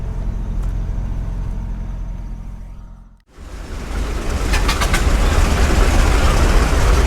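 Old prairie tractor engines at a show: a loud steady engine drone cuts out briefly, then a heavier rumbling engine starts up and runs, growing slightly louder, with no talking.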